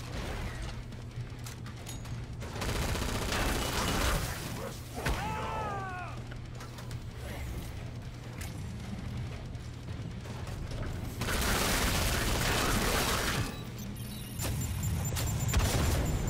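Mortar barrage in the game Swat: repeated booming blasts and rumbling impacts over a steady low hum, with louder surges late in the sequence and brief whistling tones amid the noise.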